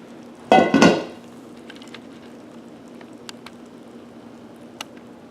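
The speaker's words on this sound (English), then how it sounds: "let's lift our lid and see what we got" A lid comes off a skillet of cheese-topped catfish with a short burst of clattering metal near the start, then only a faint low hum and a few tiny clicks.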